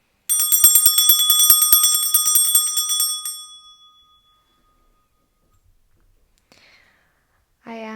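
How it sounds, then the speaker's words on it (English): A metal bell struck once and left to ring, its bright shimmering tone sustaining for about three seconds before fading into near silence, with a short burst of speech or humming at the very end. "I'm going to start by clearing the energy with this bell"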